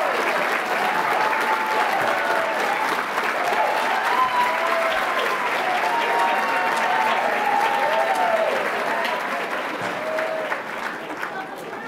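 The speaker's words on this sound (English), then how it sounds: "Please give them another round of applause." Sustained audience applause for award honorees at the 2019 Black Excellence Awards, a dense steady wash of many hands clapping that carries on for the whole stretch and only begins to thin near the end.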